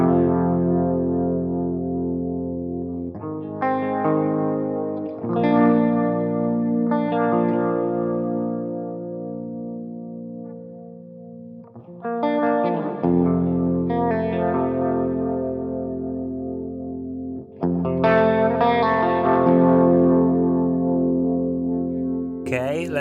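Electric guitar through an All-Pedal Microdose phaser in normal mode with only two stages set fast, playing sustained chords and a few picked notes, several strums ringing out with a subtle warbling shimmer, close and fairly loud.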